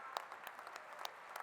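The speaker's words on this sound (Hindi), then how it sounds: "जोरदार तालियों के साथ" An audience at a student parliament session applauds in a faint, steady patter of many hands clapping, with a few sharper claps standing out and no talk over it.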